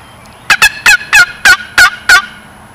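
A wild turkey gobbles loudly and nearby in the New York woods, seven quick, evenly spaced gobbling bursts rolling out one after another, with no talking over them.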